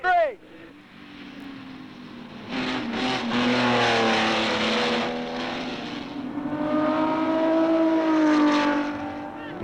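Race car engines at the 24 Hours of Le Mans, a steady loud roar with shifting pitch as cars pass near the pits, with announcer-style talk over it.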